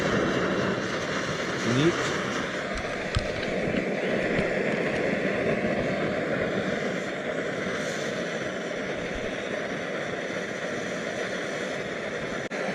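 A Trangia camping stove burning on a gas burner gives a steady, loud broadband roar with no breaks, while someone speaks a single short word over it.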